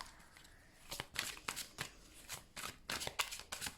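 Tarot cards are shuffled and drawn by hand, giving soft papery riffles and quick slides in uneven bursts, close and fairly quiet, with no talking.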